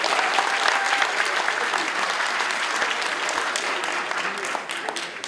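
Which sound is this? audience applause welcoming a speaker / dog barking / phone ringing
audience applause welcoming a speaker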